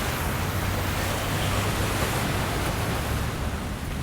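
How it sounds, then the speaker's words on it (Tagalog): Strong sea waves against the rocky shore of Manila Bay make a constant, loud, broadband roar with no distinct breaks or pauses. "ganyan po kalakas ang dagat."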